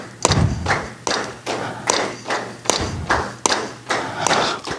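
Students in a musicianship lecture clapping a steady pulsed rhythm together, roughly eight evenly spaced thuds and taps in a bit under five seconds, with the whole group sounding each beat at once.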